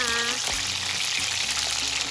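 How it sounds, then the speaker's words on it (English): Chicken pieces frying in hot oil give a steady, close sizzle with a crackling hiss throughout, while a person speaks over it. "can you hear the sizzling guys?"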